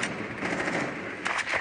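Rapid gunfire from Rainbow Six Siege crackles continuously at moderate distance, with a few sharper nearer shots near the end.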